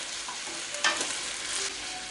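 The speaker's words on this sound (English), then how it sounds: "got to keep stirring this noodles" Prawns and noodles sizzle and fry steadily in a pan while being stirred, with a brief scraping clatter of the utensil partway through.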